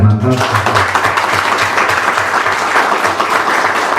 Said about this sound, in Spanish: reciba por favor este último aplauso que yo quiero brindarles con toda la hermandad